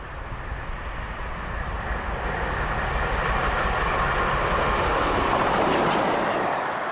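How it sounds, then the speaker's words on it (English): Steam locomotive Taw Valley, a Pacific, passes Micheldever at speed: a broad rushing roar that builds steadily with a rhythmic wheel clatter, growing loudest near the end before easing slightly, with no voices. "This is Taw Valley passing Micheldever at speed."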